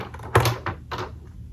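Small essential oil bottles clink and knock against each other as they are shuffled around by hand, a few quick close clatters in a quiet room.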